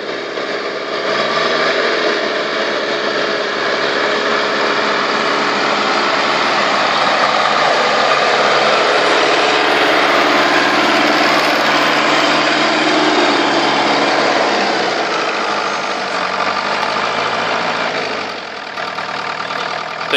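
Small engine of a homemade self-propelled branch chipper running steadily as it drives over icy, snowy ground, a loud continuous buzzing drone with slight shifts in pitch throughout, no speech.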